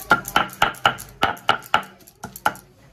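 Chutney is ground by hand in a rhythmic run of about a dozen sharp, close knocks, evenly spaced at first and then slightly irregular, with no voices.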